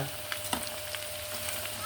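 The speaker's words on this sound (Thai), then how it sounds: "กรุณาทอดอย่าไฟแรงนะเอาไฟแบบ ปานกลาง นะครับ พอกระทะร้อน" Pork frying in a hot pan over medium heat, with a steady, fairly quiet sizzle and a few small pops and crackles, and no one talking.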